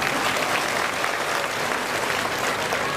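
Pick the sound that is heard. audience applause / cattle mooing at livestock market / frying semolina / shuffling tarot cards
audience applause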